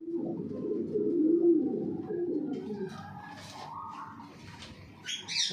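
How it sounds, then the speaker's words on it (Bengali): Pigeons in a small loft coo softly at close range in low, throaty rolls for several seconds. Fainter chirps and rustling follow near the end. "আর কিছু অল্প কবুতর আছে, আগে কবুতর ছিল অনেক, কমিয়ে দিয়েছি।"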